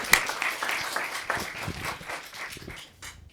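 Indoor conference audience applauding after a talk, a dense close patter of clapping that starts strong and gradually thins out and fades toward the end.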